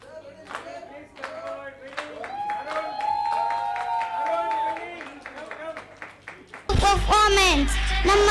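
Audience gives a warm honorary round of applause at a Kannada celebration; a voice speaks over quiet background first, then loud, dense clapping bursts in near the end.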